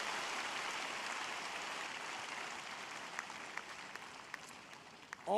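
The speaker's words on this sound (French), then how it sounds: "Give the Lord a big hand of praise." A church congregation claps in praise of the Lord, sustained dense applause filling the room at moderate distance, steady throughout and thinning slightly near the end.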